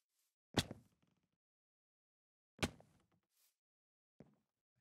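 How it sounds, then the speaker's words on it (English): Three low, heavy thuds in otherwise near silence from the Cave Dweller monster in modded Minecraft: two strong booming hits about two seconds apart, then a softer third, each trailing off briefly. "that noise is in fact the cave dweller"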